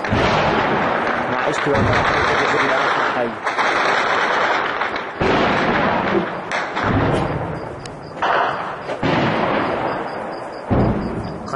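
Night clashes in Barzeh, Damascus, with flares overhead: heavy, continuous booming explosions and bursts of gunfire, loud and dense for the whole stretch, while someone speaks briefly over the din.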